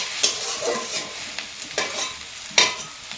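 Ash gourd frying in a pan with a soft continuous sizzle, broken by a few sharp scraping stirs of a spatula at irregular intervals, close up.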